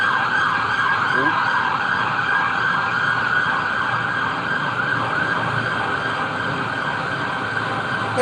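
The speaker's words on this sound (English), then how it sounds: "Hearing them sirens, the warning" Emergency vehicle siren wailing steadily and loudly for the whole stretch, with traffic noise underneath and no talking.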